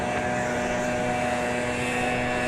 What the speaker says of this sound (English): American Flight 2210 off to Kansas City is about to roll through your screen there. 737-800.